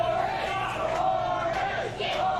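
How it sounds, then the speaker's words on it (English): A wrestling event crowd chants and cheers in a sustained, echoing roar, with rhythmic swells of voices rising and dipping across the arena. "Crowd trying to will Lawrence back to life"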